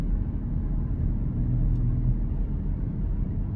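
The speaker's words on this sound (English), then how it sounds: "This engine is amazing. It just rockets this car forward like it's nothing." Deep steady rumble of a BMW X5 xDrive30d diesel engine under full-throttle acceleration, heard from inside the SUV as a continuous low drone at constant loudness with no talking.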